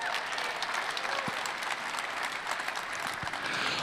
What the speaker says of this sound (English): Let's give this Charger a round of applause.